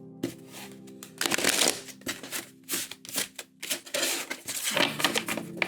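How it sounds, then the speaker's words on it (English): Tarot cards shuffled by hand in repeated riffling bursts, close and fairly loud, with short pauses between the flurries of crisp papery slaps. "I think that was the second shuffle."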